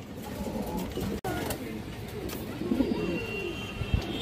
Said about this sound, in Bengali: এই যে দেখেন পালা লাইনের কবুতর